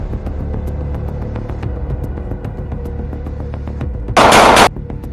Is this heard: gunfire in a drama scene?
yes